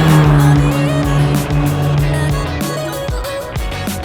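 Rotary engine of a 1985 Mazda RX-7 running steadily and loud throughout, with a strong low hum and rising and falling revs as the car is driven.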